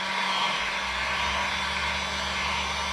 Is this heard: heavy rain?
no